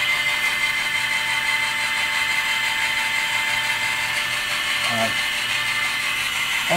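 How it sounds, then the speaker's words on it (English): A discharge conveyor motor hums on a cup filler machine, a steady mechanical drone with a faint high whine, broken near the end by a brief clunk. "That's this discharge conveyor's on now."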